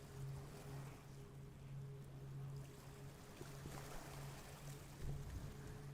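XCAT racing powerboat on open water at the Fujairah Grand Prix, a steady engine drone under continuous spray and wind rush, fairly distant and with no voices.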